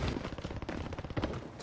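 Gunfire in the video game Warzone comes as rapid bursts of close automatic shots rattling in quick succession over a short stretch, with no one talking.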